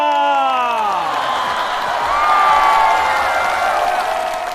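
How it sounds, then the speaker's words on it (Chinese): Studio audience applause and cheering at a Chinese comedy show as a new performer comes on, sustained dense clapping with whoops under sweeping entrance music. "掌声！"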